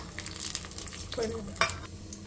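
Peanuts, chana dal, urad dal, cumin, mustard seeds and dry red chillies fry in hot oil, giving a soft, steady sizzle and crackle with a few brief stirring scrapes.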